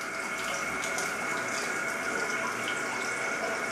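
Water runs steadily from a tap into a hair product as it is lathered, a continuous close rushing sound with no voices.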